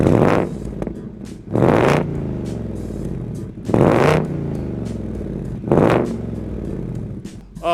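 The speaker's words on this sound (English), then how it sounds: "Nothing like the sound of that amazing Coyote V8" A 2021 Ford Mustang Mach 1 with a Coyote V8 is revved hard three times, each loud exhaust blast rising and then falling back to a rumbling idle between blips.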